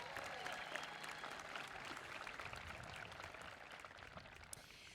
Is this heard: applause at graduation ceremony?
yes